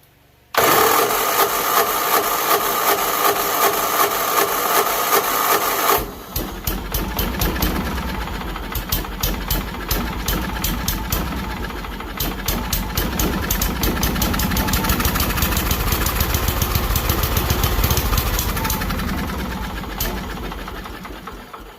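A Craftsman tractor with a 20HP Onan engine and a suspect fuel pump is cranked repeatedly. It makes a loud, continuous whirring drone, then a rougher, uneven chugging as it struggles to catch.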